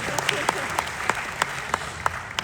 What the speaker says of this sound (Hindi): एक बार तो तालियां इसके बजाओ कि हमारी बेटी है।